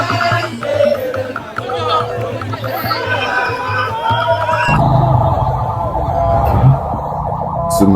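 An ambulance siren rises and falls over a busy crowd of chattering voices at a funeral wake, loud and nearby, with the background noise shifting midway.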